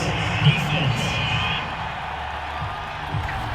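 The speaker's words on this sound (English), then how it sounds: "Well, the crowd doesn't like that." Stadium crowd in Madden NFL 22 reacting to a penalty flag on third down in a Chiefs versus Raiders game, a steady mass of booing and murmuring under a commentator's voice.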